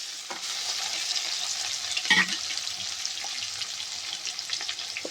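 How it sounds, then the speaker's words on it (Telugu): Chopped onion frying with boneless chicken in hot oil, Telangana-style chicken fry, a steady bright sizzle with a brief louder stir or spatter midway, no talking. "ఇందులోకి కొంచెం తరిగి పెట్టుకున్న ఒక ఆనియన్ ఆనియన్ ఫ్రై అయ్యే వరకు వేసుకోవాలి"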